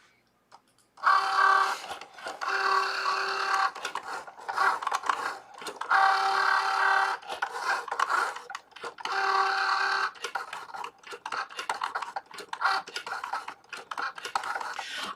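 A Cricut Joy cutting machine runs a foil transfer, giving a steady whirring, mechanical hum with clicks and pauses as the carriage moves, close and fairly quiet.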